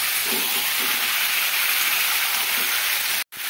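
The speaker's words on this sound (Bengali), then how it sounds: "এবারে 1-2 মিনিট আমি হাই ফ্লেমে দিয়ে মশলার সঙ্গে ভালোভাবে মিশিয়ে নিচ্ছি মাংসটাকে।" Country chicken sizzles loudly with spices in a pan over a high flame, a steady close hiss and crackle that cuts out briefly near the end.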